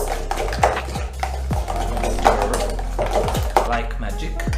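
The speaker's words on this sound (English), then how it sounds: "So what we do is give it an energic stir" Thick pastry cream is stirred energetically in a pot, producing rhythmic scraping and thudding strokes, several per second, close and fairly loud.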